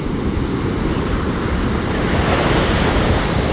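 Ocean surf breaks and rushes onto a sandy beach at Iztapa on Guatemala's Pacific coast, a loud, continuous wash of waves with steady wind noise buffeting the microphone throughout.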